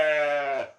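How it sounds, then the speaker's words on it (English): A sheep gives one clear, close bleat at a farm in a German-style town in Brazil, a wavering tone that lasts under a second and fades at the end. "Sheep."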